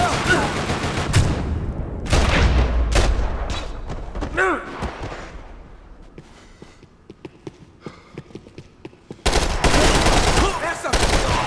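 Gunfire in the video game Max Payne 3, loud bursts of rapid shots at the start, a quieter stretch of scattered clicks and single reports, then another heavy volley near the end, with shouting voices in between.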